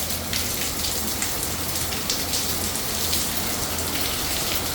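Heavy rain pours down steadily during flooding at a building, a dense, continuous hiss of water striking surfaces with scattered louder splashes, no voices.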